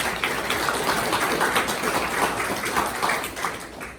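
Audience applause at a business leaders luncheon, a dense, steady roll of many hands clapping that holds at an even level for the full stretch before tapering slightly at the end.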